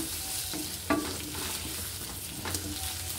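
A slice of food sizzles softly in a frying pan, with a steady low crackle and a couple of brief clinks from stirring.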